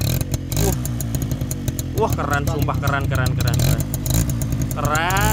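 A tuned Suzuki RC motorcycle with a Taiwan-made aftermarket exhaust revs hard and close, its engine rising and falling in loud, rasping pulls while people talk excitedly over it.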